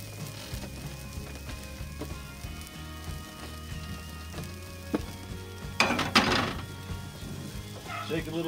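Onions and garlic with salt and pepper sizzle steadily in a pan, a soft continuous frying hiss with a few louder scraping bursts near the end as the mix is stirred.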